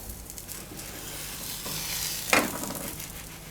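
A tomato besan pudla, a Gujarati gram-flour pancake, frying on a pan at medium heat, giving a soft continuous sizzle with a brief scrape or clatter near the end, close and fairly quiet.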